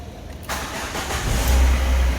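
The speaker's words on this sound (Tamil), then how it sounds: "ஸோ இப்போ வண்டியை வந்து ஸ்டார்ட் பண்ணி பார்க்க போகிறோம்" A 2012 Renault Lodgy is started after a BCM repair: a short crank followed by the engine catching and settling into a steady, fairly loud idle that swells slightly with a low rumble, heard up close with no talking.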